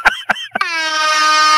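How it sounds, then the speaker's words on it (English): After a few quick short blasts, a loud air horn sounds one long sustained blare. "give me an air horn now"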